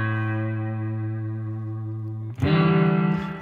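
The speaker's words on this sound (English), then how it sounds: "when you have this much reverb drenched on the guitar." Electric guitar swimming in heavy reverb plays sustained, ringing chords with a long wash of echo, then a louder strum lands near the end and swells over the fading tail; no voices.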